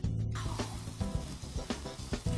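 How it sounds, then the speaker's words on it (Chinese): Matsutake mushrooms sizzle in a dry pan with no oil, a steady close hiss broken by soft recurring taps and scrapes as they are moved. "煎松茸。"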